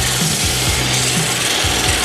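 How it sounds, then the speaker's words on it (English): Sandpaper held against a wooden block spinning on a lathe at full speed, a loud continuous rasping rub with rhythmic scraping pulses as the paper is pressed on, no talking. "To do the sanding process on the lathe, just hold the sandpaper behind your block"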